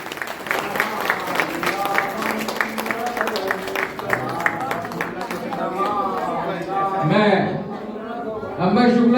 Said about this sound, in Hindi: तालियों की गड़गड़ाहट एक बार पुनः